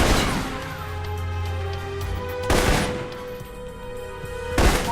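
Assault rifle fire in the Alpha Protocol video game, loud bursts of rapid shots with a sustained tonal game soundscape underneath and two sharp blasts later on.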